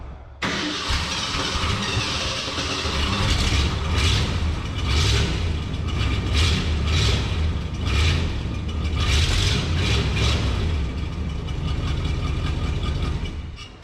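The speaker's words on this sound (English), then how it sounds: "Still a pretty massive exhaust leak at the manifold" A 1975 Ford F250 4x4 truck engine, with a large exhaust leak at the manifold, starts and runs steadily for about fourteen seconds, loud and close with a rough, ticking exhaust rasp and no talking.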